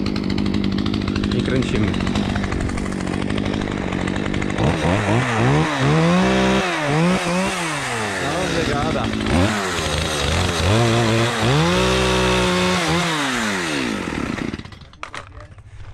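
A chainsaw runs loud and close, its engine rising and falling in repeated pitch sweeps as it cuts through wooden posts, with brief voices talking over it; the saw has overheated.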